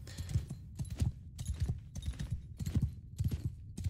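Horse hooves clip-clop in steady, repeated bursts as a mount climbs a hill slowly in the Mount & Blade II: Bannerlord video game, close and moderately loud with no talk over them.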